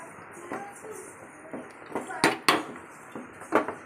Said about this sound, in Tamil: மாவு போட்டு நல்லா கிண்டுவோம்